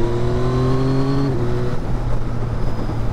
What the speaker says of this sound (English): the gear change and the quick shift is much smoother on the Yamaha.